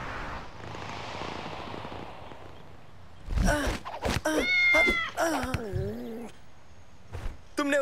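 Cartoon cat meowing loudly in a burst of several rising, tonal yowls and cries in the middle of the clip, following a stretch of softer background noise, with a brief final call near the end.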